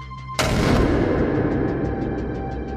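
An honorary welcome cannon salute, heard as a single sudden, heavy boom that rolls into a long, fading rumble with echo, with no voices.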